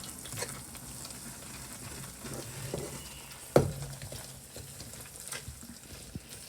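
Bhakhri flour is roasted in a hot pan while being stirred, giving a soft, steady sizzle with scraping stir strokes and one sharp clack of the utensil midway, close and alone with no talking.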